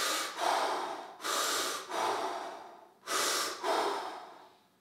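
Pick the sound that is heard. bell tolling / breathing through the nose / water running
breathing through the nose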